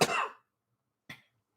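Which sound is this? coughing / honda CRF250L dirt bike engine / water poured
coughing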